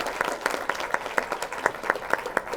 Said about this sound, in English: So can everyone please give Gary a big round of applause?